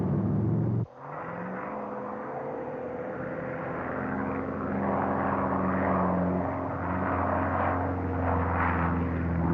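A propeller airplane flies during stunt filming for a movie, a steady engine drone that starts after a brief dip and holds loud and constant throughout, with no voices.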